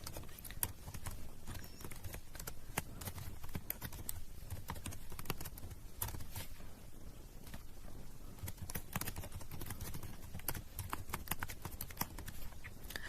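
Quiet, rapid clicking of keys on a computer keyboard, irregular bursts of keystrokes continuing steadily throughout, soft and fairly close with no talk.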